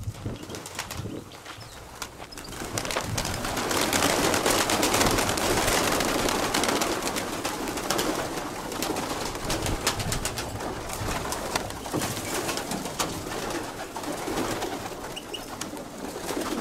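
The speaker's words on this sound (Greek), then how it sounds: "Αυτά είναι τα πουλιά της Σαντορίνης." Pigeons in Santorini, cooing and flapping their wings in a dense, continuous flock, heard up close over a steady outdoor background with no talking.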